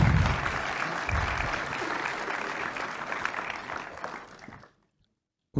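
An audience at a prize-giving and oath-taking ceremony in Marseille applauds an award winner, with steady, dense clapping from a full room that fades out and stops abruptly near the end.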